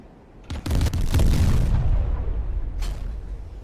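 Warship secondary guns firing in the naval video game Steel Ocean, a few sharp booming shots that roll into a long rumbling tail, then another distant report.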